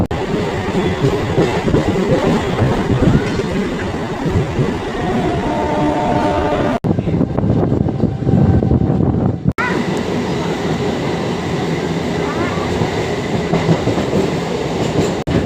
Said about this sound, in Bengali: পাশে হাওড়াগামী লোকাল দাঁড়িয়ে আছে